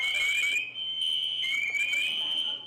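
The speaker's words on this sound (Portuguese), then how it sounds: "O alarme de incêndio começou a tocar às 3 horas da tarde." During a fire evacuation drill, an electronic fire alarm sounds a loud, piercing continuous tone that warbles slightly, holding steady with brief dips.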